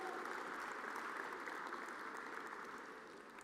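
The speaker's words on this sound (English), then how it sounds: "a round of applause for your Hofstra Pride men's soccer team." Applause at a university athletics award show for the Hofstra Pride men's soccer team, a steady crowd of clapping that is fairly faint and distant and tapers slightly at the end.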